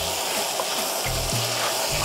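Chopped onions hit a hot pan for a creamy shrimp pasta and sizzle steadily, a close, continuous frying hiss with a few low thumps as they settle.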